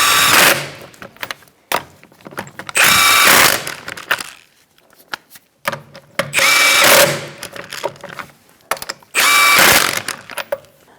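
An impact tool buzzes in four loud bursts of about a second each, tightening the wheel lug nuts on a 2004-2009 Mazda 3 2.3L, with short ratcheting clicks and metal taps in the pauses.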